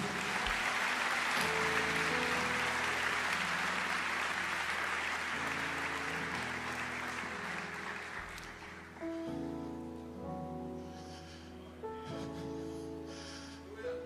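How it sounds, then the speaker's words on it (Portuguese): A church congregation claps together in a broad, steady wash of applause that gradually thins, while organ or keyboard chords and music rise underneath toward the end. "Aplauda o Senhor, igreja."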